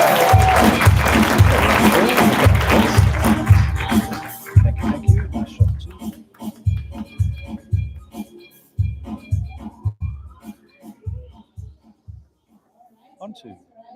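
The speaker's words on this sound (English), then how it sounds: "Let's give her a big round of applause." Audience applause at a live event, loud and dense at first, then thinning into a few scattered claps and fading out, with voices and some talking mixed in.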